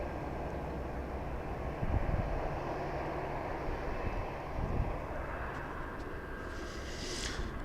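A Southwest Boeing 737 MAX taxiing to the runway at Dallas Love Field at night, a low steady engine rumble at a moderate distance with a couple of soft thumps and a faint higher whine near the end.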